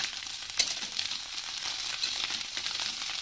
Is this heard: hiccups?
no